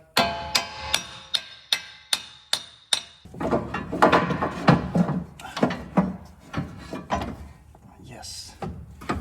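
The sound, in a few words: hammer tapping truck axle during spindle install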